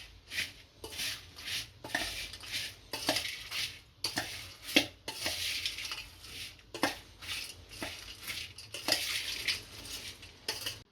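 A spoon mixing chaat masala, salt, lemon juice and red chilli powder into a crispy snack in a bowl, with repeated close clinks and scrapes against the dish and a rustle of dry pieces.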